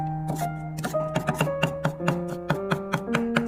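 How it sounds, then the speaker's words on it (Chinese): A knife chops garlic into mince on a board, giving a quick series of crisp, close taps that speed up into a steady rhythm. "再切成蒜末。"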